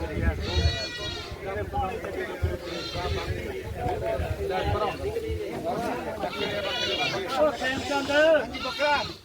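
Goats bleating repeatedly, several overlapping calls close by, with people talking over the noise of a busy goat market in a Punjab village.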